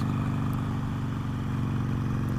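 A Harley-Davidson Iron 883 motorcycle fitted with Rush mufflers rumbles steadily and loudly while being ridden on a rough road, with a constant low engine drone and wind noise throughout.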